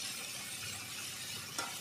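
Crab and green tomato sauté in a pan as they are stirred, a quiet steady sizzling hiss broken by one brief clink of utensil against pan near the end.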